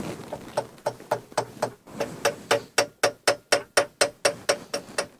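A hammer taps on the head of a vertical milling machine to bring it into alignment, striking in a quick, steady series of about twenty sharp, close knocks that grow firmer and faster, with no voices.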